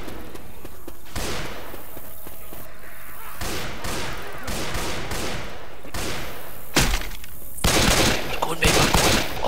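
AK rifle fire in Left 4 Dead 2, loud rapid bursts separated by short pauses, with the heaviest bursts toward the end and players' voices talking over the shooting.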